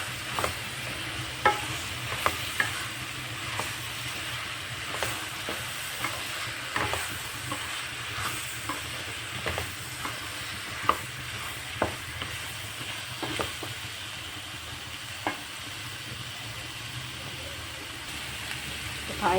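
Chopped vegetables cook in oil in a pot for kaima curry, giving a steady low sizzle and bubbling with occasional light clicks of stirring throughout.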